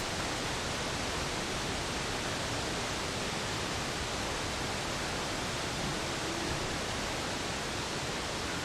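Waterfalls in a video game river valley pour out a dense, constant roar of rushing water, unbroken and even from start to finish.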